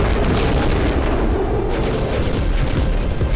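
Heavy bombing in war-torn Bakhmut sets off repeated deep booms that roll into one another in a dense, rumbling barrage, loud and sustained, with no voices.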